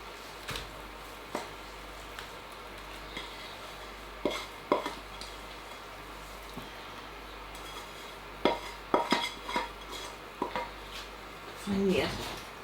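Sticky flapjack mixture is scraped and pressed into a baking tin, with scattered clinks and scrapes of a utensil against metal and bowl, a busier clatter near the end, and brief talk in between.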